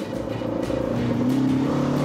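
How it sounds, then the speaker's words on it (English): A Porsche 914's four-cylinder engine revs up, a steady droning note rising gradually in pitch and volume over two seconds, close and alone with no talk. "The engine sounds great, but when Drew puts his foot down, it doesn't perform as it should."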